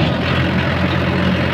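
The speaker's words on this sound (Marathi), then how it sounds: "भाऊ ट्रॅक्टर चालवायला आहे." A tractor engine runs in a village farmyard with a loud, steady, low rumble that holds unbroken throughout, with no voices.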